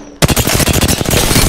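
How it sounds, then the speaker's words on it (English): Rapid bursts of automatic gunfire strike the player in Apex Legends, a dense, loud, close string of sharp cracks following a brief quiet moment, with no talking. "Damn, getting shot."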